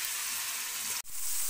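Chicken sizzles and fries in a pan for a spicy pasta. The steady, close hiss breaks for a moment and then continues.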